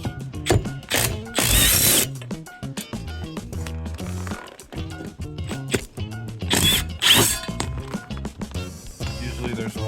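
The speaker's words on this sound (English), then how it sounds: "we'll remove the lag bolts, get that out of our way" Power drill backing lag bolts out of a satellite dish mount on a roof, with bursts of whirring and ratcheting clatter, several loud spells of high-pitched spinning, close and busy throughout.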